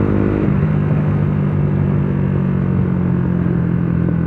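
A motorcycle with an aftermarket exhaust rumbles steadily up close with a deep, throaty exhaust note, holding a constant loud drone with little change in pitch.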